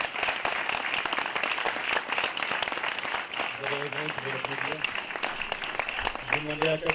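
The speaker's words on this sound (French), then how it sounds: "vous pouvez l'applaudir" An audience at the Piolet d'Or 2021 mountaineering awards applauds a lifetime achievement honoree, a dense, continuous patter of clapping throughout while a presenter speaks over it.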